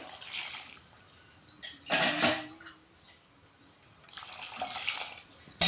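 Water pours into a spice mixture for a red onion chutney, coming in two separate splashy bursts with a quieter stretch between, close and fairly loud, no voices.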